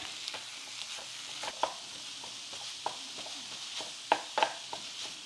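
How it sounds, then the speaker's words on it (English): Sausage fries in a pan with a soft, steady sizzle, while a utensil stirs and breaks up the meat in scattered scraping clicks and taps, fairly quiet and close. "Now we need to fry up some sausage."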